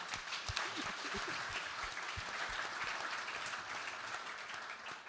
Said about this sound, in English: Another clap for the fabulous Helen.